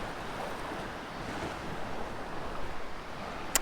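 Surf rolls onto a fishing beach on a windy morning, a steady low wash of breaking waves mixed with gusty wind noise, moderately faint and continuous.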